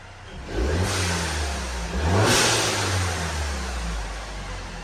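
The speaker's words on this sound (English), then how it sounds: "That's how it sounds with the MPX blow valve." A car engine with an MPX blow-off valve and MPX intake tube revs up twice in quick succession, the pitch rising and falling with a rushing whoosh as the throttle releases, close and loud.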